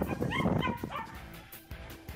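A dog in distress gives short yips and barks mixed with whimpers, moderately close, in a few quick bursts that fade into quieter whines.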